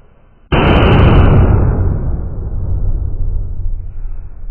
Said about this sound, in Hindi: भाई ये रहा रुद्रा ब्रांड का बुलेट,